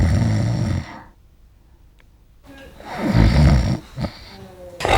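Several French bulldogs snore loudly and close, with a deep rasping snore, a pause, then more rumbling snorts and breaths.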